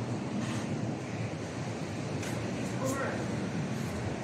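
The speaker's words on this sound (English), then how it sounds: "The waves are too big today." Large ocean waves break on the shore along a coastal stretch, a continuous loud roar of surf with wind buffeting the microphone throughout and faint voices mixed underneath.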